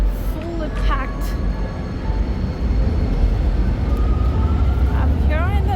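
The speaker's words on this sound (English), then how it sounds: "In the First Street C train station, and you can see the C train is fully packed." Calgary C-Train light rail at the downtown First Street station, a steady low rumble of the train with bell or squeal tones and faint chirps, heard close and loud throughout with no clear talk.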